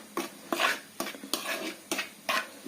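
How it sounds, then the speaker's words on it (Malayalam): Spices for a mango pickle, including fennel powder, are stirred together in a bowl, making close, rhythmic scraping and clinking strokes about every half second, with no talk. "ഇനി നമുക്കിതെല്ലാം കൂടെ ഒന്ന് മിക്സ് ചെയ്യാം."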